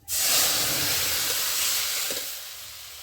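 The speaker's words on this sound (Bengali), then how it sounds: "এবার সিদ্ধ করে রাখা আমি ওলকপিটা দিয়ে দিচ্ছি" Boiled kohlrabi hits hot oil tempered with panch phoron and dried chili, setting off a loud, hissing sizzle that starts abruptly and slowly eases, with no voices.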